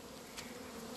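Honeybees buzzing after being moved out of a moldy hive tube, a steady close droning hum throughout with one brief louder pass.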